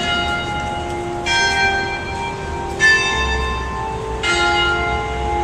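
Church bells ring out at St. Mark's in-the-Bowery, three clear, resonant strikes spaced about a second and a half apart, each leaving a long sustained hum over steady outdoor background noise.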